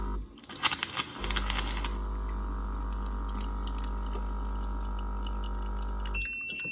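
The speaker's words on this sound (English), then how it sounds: "you press this button once and it does the hot water" A baby bottle machine dispensing hot water: a button click and a few light taps, then a steady pump hum and running water stream into a bottle for several seconds before stopping.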